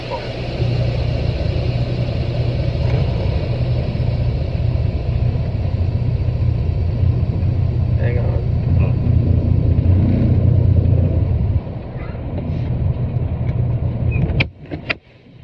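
A truck rolls forward a few feet and brakes to a stop during a CDL air brake test, a steady loud low engine rumble throughout, easing near the end with a few sharp clicks and hisses; faint voices in the background.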